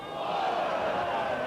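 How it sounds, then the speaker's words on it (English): A large football crowd at a 1991 Rochdale versus Wigan match roars steadily after a forward pass, a dense, sustained wash of distant voices with no break. "Crowd roar for a forward pass."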